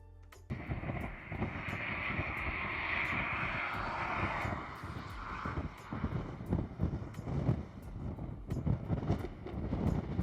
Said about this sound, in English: this video starts off with me flying the drone